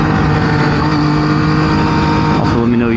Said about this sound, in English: you'd rather hear the raw sound of the motorcycle itself